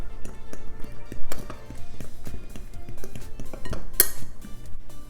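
Crumbly pizza fritte dough being worked with butter in a bowl, heard as close, uneven scraping and clinks of a utensil against the bowl, with one brighter clink partway through.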